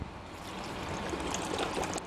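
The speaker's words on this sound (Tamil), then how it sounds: "போட்டு இப்போ தேவையான அளவு தண்ணி ஊற்றிக்கலாம்" Water poured into a pressure cooker holding rasam ingredients such as tomatoes, curry leaves and salt, a steady close trickling and gurgling stream that runs without a break for about two seconds.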